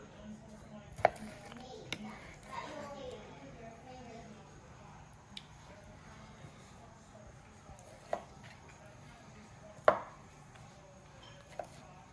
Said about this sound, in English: Cut this up into little pieces. Wow, that's tender. Cuts right through that.